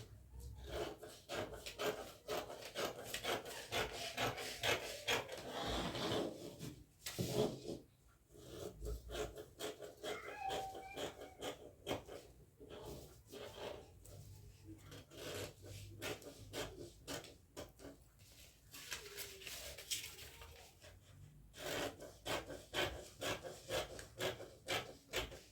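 Fabric is cut for the back of a yoke dress pattern, giving quiet, close, repeated snips and rubbing scrapes in an irregular rhythm, faint and intimate without talk.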